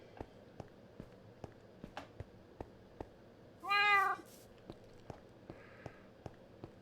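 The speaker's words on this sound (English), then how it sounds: "that cat wandered in here at some point when I was doing something off camera" A house cat meows once, loud and close, with a drawn-out wavering call in an indoor room, set against a steady train of soft clicks or taps.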